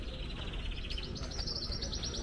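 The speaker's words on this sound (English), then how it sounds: "They got birds there." Many small birds chirp and tweet busily in a pet shop reached through a tunnel near a castle, a dense, continuous twittering chorus that fills the space at close range, with no talking over it.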